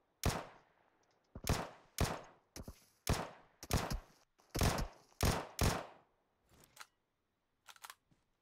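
Bursts of gunfire in PUBG Mobile, roughly ten sharp cracks in uneven clusters over several seconds, loud and close, with a couple of fainter shots near the end and no talk.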